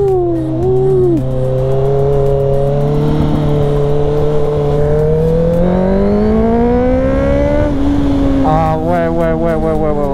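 A 650 cc motorcycle accelerates while riding, its engine note climbing in pitch through the gears with a brief drop at each shift, loud and close with steady wind rush.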